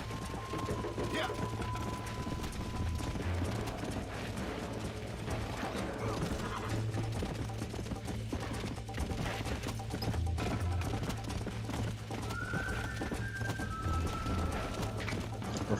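Galloping horse hooves in Red Dead Redemption, a fast continuous clatter mixed with game effects and mechanical rattling, with people talking over it throughout.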